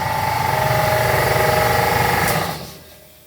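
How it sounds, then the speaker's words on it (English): An air compressor in a garage runs loud and close with a rapid pulsing mechanical chug, then shuts off and spins down in the last second. "let's get rid of that air compressor. That's annoying."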